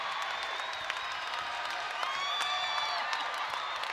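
Basketball arena crowd at an NMSU men's game cheering and applauding during a timeout, a steady dense roar of voices and clapping with occasional whoops, loud and continuous throughout.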